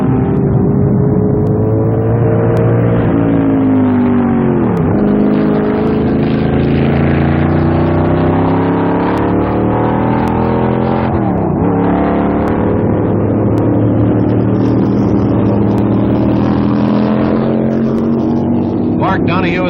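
1967 Can-Am McLaren Chevy race cars howl around Road America in a continuous loud engine drone, with two sharp drops in pitch as they brake or downshift. A narrator talks over the racing.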